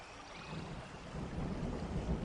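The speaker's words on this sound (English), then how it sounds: "Outside, rain continued to fall." Steady rain falls outside on a night, a soft continuous patter with a low rumble beneath it that swells slightly toward the end.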